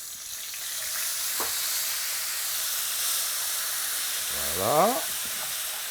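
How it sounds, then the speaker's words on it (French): Hot pan for a Christmas roast in pastry hisses and sizzles steadily as a little water hits it to deglaze, with a brief scraping clatter partway and a short spoken word near the end. "on va déglacer avec un peu d'eau"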